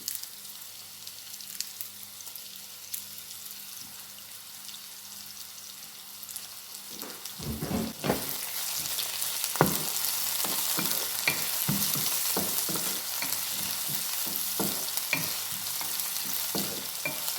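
Fennel seeds and broken dried red chillies crackle in hot oil, starting as a faint low sizzle and rising into a loud, busy spatter with scattered pops and stirring clicks.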